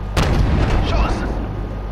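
A loud, booming gunshot from an aerial gunship cannon in Call of Duty: Modern Warfare, one heavy blast at the start with a long rumbling tail that fades slowly.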